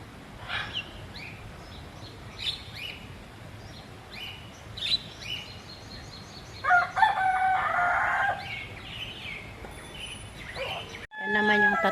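Several fluffy-feathered imported chickens clucking in repeated short calls with a crow-like outburst in the middle, close and moderately loud, followed by a burst of handling noise at the end.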